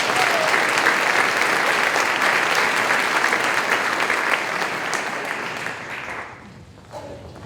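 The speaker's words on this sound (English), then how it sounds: "Let's give these professionals one final round of applause." An audience at a foundation breakfast applauds school district employees with a full, even round of clapping that gradually fades out over the last seconds.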